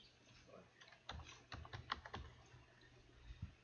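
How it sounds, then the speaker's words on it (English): Keys on a computer keyboard tap out a file name in a quick, irregular run of close, faint clicks, with short pauses between bursts. "Then we type the name Microsoft"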